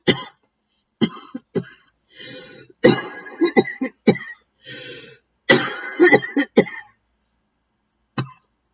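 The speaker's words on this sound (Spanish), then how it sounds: "Vea que me dé la tos en directo" A series of harsh, separate coughs and throat-clearing bursts, close and loud, with short silent gaps between them.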